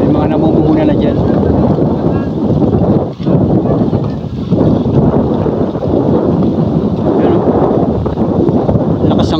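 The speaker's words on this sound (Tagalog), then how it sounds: "Lakas ng hangin mga idol oh." Strong wind buffets the microphone on a Calauag, Quezon seashore lined with large fishing boats, a loud continuous roar with gusty swells throughout, a brief dip near three seconds, and voices talking underneath.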